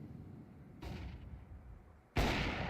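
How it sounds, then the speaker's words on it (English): A flashbang grenade bursting in the video game CS2, one sharp, loud bang following a softer thump, from a short, otherwise quiet moment. "Flashbang."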